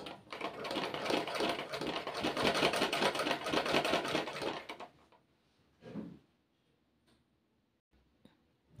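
Sewing machine stitching a seam on fabric for girls' underwear, a fast continuous whirring run of about five seconds, then it stops, leaving a brief clunk and quiet handling.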